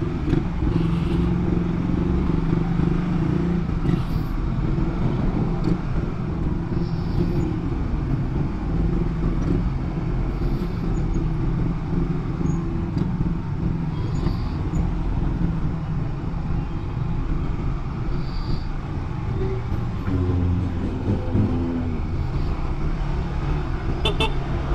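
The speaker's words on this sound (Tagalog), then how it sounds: "Grabe yung traffic ngayon." Busy Friday rush-hour road traffic heard from a moving motorcycle, with a steady, loud blend of engine drone and road noise throughout and scattered horn toots near and far.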